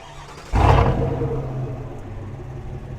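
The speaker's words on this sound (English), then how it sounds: "So if we just lock it and now start it" A Chevrolet Silverado 1500 ZR2 pickup with a sports exhaust fires up with a sudden loud roar at about half a second, then settles into a deep, rumbling idle that stays steady and close.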